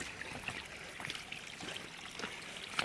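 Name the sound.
walking through a stream at Gold Strike Hot Spring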